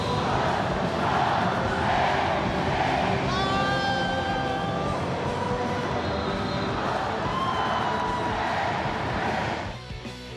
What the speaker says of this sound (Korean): 잠실구장에 남아있던 LG 팬들은 어부지리로 우승이 확정되자 환호합니다